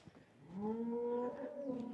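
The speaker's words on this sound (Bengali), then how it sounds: "গরুর আওয়াজ" A cow in a Rwandan village gives one long, low moo that holds steady for over a second, fairly faint and a little distant.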